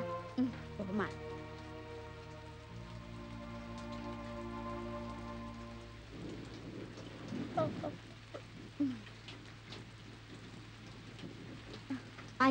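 Heavy rain falls in a steady wash through a rainy night scene, with a sustained tonal musical background early on and a few faint voices and brief knocks in the later part.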